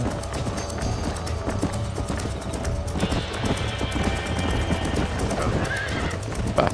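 In the video game Red Dead Redemption, a horse whinnies and its hooves clip-clop at a gallop. The sound is loud and close, with the rhythmic hoofbeats running the whole way through.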